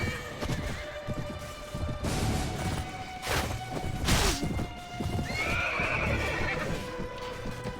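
Horses in Mount & Blade Warband gallop with rapid clip-clop hoofbeats and let out several loud whinnies, with a brief crash of impact partway through.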